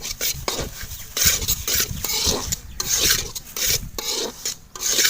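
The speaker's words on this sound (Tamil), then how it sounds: "எண்ணெயில் வறுத்த முந்திரி திராட்சை கேசரிக்கு ரவை வறுக்கிறோம்" Semolina roasts in a pan for kesari, stirred continuously, giving a dry, gritty scraping and rasping in quick repeated strokes.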